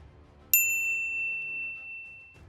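A single bright notification ding chimes once, clear and high, then rings out slowly into near silence.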